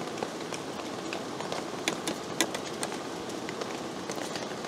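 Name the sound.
heavy rain falling on roof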